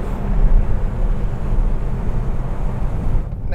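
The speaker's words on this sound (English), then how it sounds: "Let's open the sunroof and check this thing out." Steady broadband wind rush and road roar inside a VW Turbo Beetle driving on mountain roads with the sunroof open, loud and continuous, with no voices.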